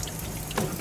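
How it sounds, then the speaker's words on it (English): Hot tap water runs over hands being washed with soap at a pizza station sink, a brief, steady splashing stream at close range. "wash our hands. Hot water for 20 seconds using soap."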